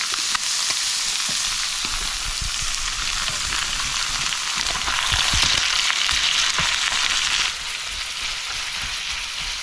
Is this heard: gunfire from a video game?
no